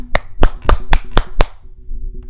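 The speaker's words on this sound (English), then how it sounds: "Clap your hands." Six sharp, evenly spaced hand claps close up, loud and distinct, then stopping abruptly and leaving a quiet tail.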